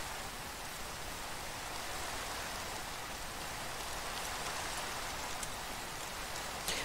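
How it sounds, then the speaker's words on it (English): Steady rain falling in the video game Minecraft, a constant even hiss that holds without break for the whole stretch, moderately loud, with no voices. "Oh, it's raining."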